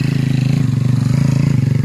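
A small motocross dirt bike engine revs hard close by, a loud pulsing rapid-fire buzz with a steady choppy rhythm and no break.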